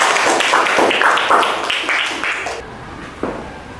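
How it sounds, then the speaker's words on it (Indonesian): A class of students in an Indonesian classroom claps together in quick rhythmic bursts for a classmate's answer. The loud, close applause stops abruptly partway through, leaving a faint room sound. "Tepuk tangan jawabannya ya."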